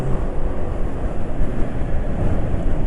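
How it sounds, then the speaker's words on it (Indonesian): A car engine running on thinned-out, worn engine oil gives a steady, rough, close-miked rumble and drone, sounding harsh and coarse throughout with no talk. "suara mesin sudah asak-asak"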